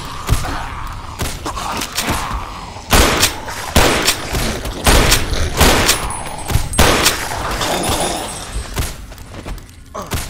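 Modded Fallout: New Vegas firefight in a cave: loud, rapid bursts of gunfire crack repeatedly throughout, close and dense with overlapping shots and mechanical clatter.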